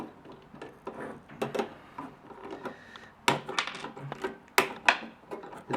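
Cutters snip components off a blown Hifonics 1500D amplifier board, giving a series of sharp, close clicks and snaps at uneven intervals with small rustles between them.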